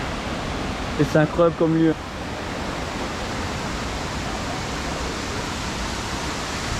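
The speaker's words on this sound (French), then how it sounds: "Sur toute la paroi rocheuse là, il y a plein de cascades." Steady broadband roar of many waterfalls spilling down a rock face at Anse des Cascades on Réunion, heard up close and continuous, with a short burst of talking near the start.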